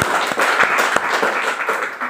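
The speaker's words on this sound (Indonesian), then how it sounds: "Boleh tepuk tangan ya?" A lecture audience gives brief applause, with individual claps audible through a loud, close, dense patter that lasts only a couple of seconds.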